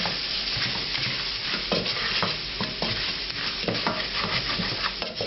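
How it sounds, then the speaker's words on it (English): Onion and ginger fry in hot oil while being stirred, a steady close sizzle broken by repeated scraping strokes of a spoon through a pan for a lamb bhuna curry. "I'm going to stir this around for a minute."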